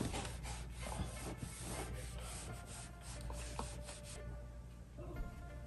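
Fabric being folded and ironed for a simple folding craft, giving a steady rubbing and brushing texture with soft scuffs and light knocks throughout, close and fairly quiet, with no talking.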